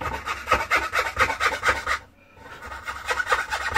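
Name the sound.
hand saw cutting a violin body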